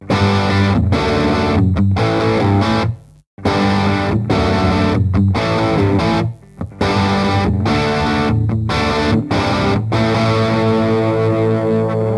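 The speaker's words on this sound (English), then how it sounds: "So you see, the distortion is really dynamic." Heavily distorted electric guitar through an Elmwood Bonneville 50 amp with boost, bridge pickup, played loud and close, chugging chords with short stops between phrases, thick saturated tone throughout.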